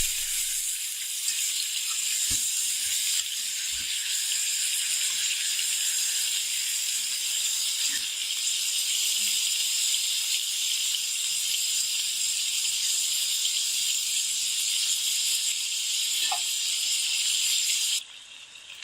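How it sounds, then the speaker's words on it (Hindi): Chicken pieces fry for chicken karahi in a pan, giving a loud, even sizzling hiss that runs nearly unbroken, with a few faint clinks, before cutting off near the end. "चिकन को हम फ्राई करेंगे गोल्डन होने तक।"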